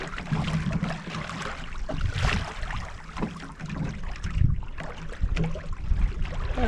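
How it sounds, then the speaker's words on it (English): A sailboat reaches across a lake in a northwesterly wind, with continuous rushing water along the hull and wind buffeting, loud and close with irregular surges and splashes. "There we go, and we're sailing."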